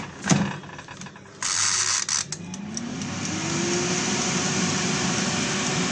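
An air fryer cooking kofta patties is switched on: a few clicks and knob turns, then a steady fan whir with a rising motor tone that settles into a continuous hum.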